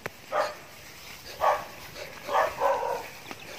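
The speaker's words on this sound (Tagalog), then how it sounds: "May alalay pa kaming aso." A dog in Bataan, Philippines barks several times at a moderate distance, short separate woofs spaced about a second apart, with light background noise.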